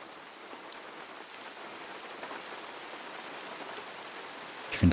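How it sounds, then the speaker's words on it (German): Steady rain in the hunting video game The Hunter Call of the Wild, near a lake: a soft, even hiss of drops on surfaces throughout, with a brief low thump at the very end. "Ich finde Regen hier überhaupt nicht toll"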